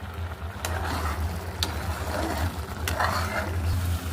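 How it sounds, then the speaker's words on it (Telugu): Carrot halwa with ghee being stirred in a pan, a steady soft scraping and sizzling with a few sharp clinks of the spoon against the pan, close and alone. "ఇప్పుడు నెయ్యి వేసుకున్నాం కదా దీన్ని మళ్ళీ కలపాలి"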